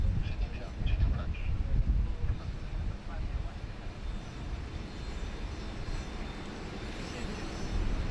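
Airliner taxiing at Sydney Airport before departure to Auckland, a low rumbling engine roar rising and easing at moderate distance, with someone talking over it at times.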